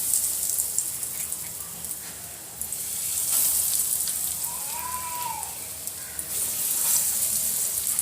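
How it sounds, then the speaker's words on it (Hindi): Chicken potato cutlets fry in hot olive oil with a steady, close, crackling sizzle that swells and eases slightly throughout, broken by faint clinks of utensils. "अब मैं कटलेट्स को फ्राई करूँगा।"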